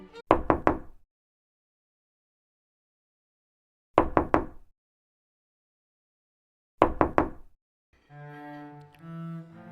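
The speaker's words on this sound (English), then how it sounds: "There is a knock upon the door." Three short bursts of sharp knocking on a door, each a quick run of three or four raps, spaced a few seconds apart in silence, followed by a brief tonal musical phrase.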